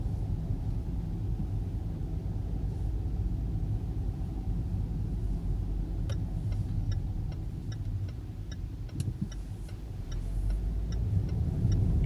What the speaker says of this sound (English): I'm going to give a little gas here.